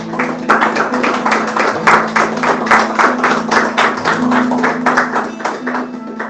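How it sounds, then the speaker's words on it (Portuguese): A congregation at a Christian worship service claps in a steady, even rhythm, close and fairly loud, with sustained music underneath the beat. "Você pode dar um aplauso ao Senhor Jesus."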